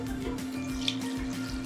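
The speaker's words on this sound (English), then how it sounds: "Add my water." Water pours steadily into a pot of veggie stew, a continuous close splashing stream that holds for the whole moment without any talking.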